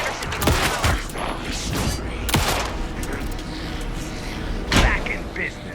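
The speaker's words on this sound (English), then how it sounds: "Anderson, pin him down with gunfire for me to get the light on him." Gunfire from Alan Wake 2 cracks in a few sharp, loud bursts spread over a few seconds, amid a busy mix of game voices and effects.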